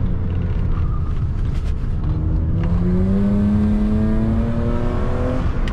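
A BMW E36 320i Coupe engine climbs steadily in pitch as the car is driven hard along a curvy road, a loud, continuous drone with a rising harmonic whine and no voices.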